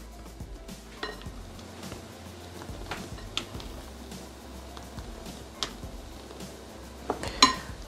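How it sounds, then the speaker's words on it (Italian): A spatula gently folds egg yolks into whipped egg whites in a bowl for sponge biscuit batter, giving soft, quiet scraping and occasional light clinks against the bowl, close and alone with no talk. "Amalgamare delicatamente con la spatola."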